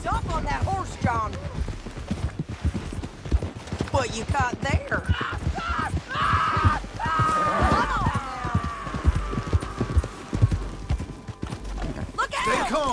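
Galloping horse hooves in the Red Dead Redemption 2 video game, a rapid, continuous clip-clop rhythm close by, with shouting voices and a neigh over the hoofbeats.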